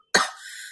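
A single short, harsh cough from someone speaking during an online workshop, close and loud, with a brief breathy tail.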